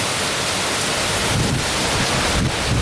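Hurricane wind and rain roar outside a house at night, a loud, unbroken broadband rush with gusts swelling and buffeting the microphone.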